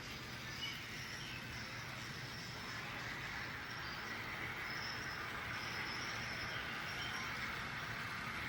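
An N scale model train runs on a large layout, producing a steady, faint rolling hum with light wheel noise that carries on unbroken throughout.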